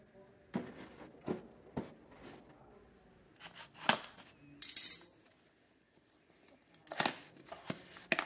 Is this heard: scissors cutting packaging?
yes